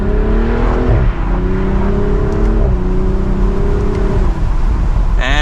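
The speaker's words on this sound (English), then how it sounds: "We'll do a quick acceleration." A 2024 BMW Z4 M40i accelerates hard in a steady, loud engine pull that rises in pitch through gear changes, shifting roughly every one and a half seconds, heard from inside the cabin with no talk.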